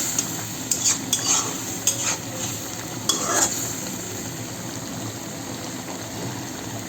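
Dried olka and chewa fish fry in a pan, giving a steady, even sizzle, with a few scraping stirs near the start before it settles into continuous frying alone.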